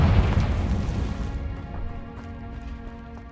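A fiery Confringo spell blast in Hogwarts Legacy on PS5: one loud, booming explosion up front, then a rumbling decay that fades over a few seconds with no one talking.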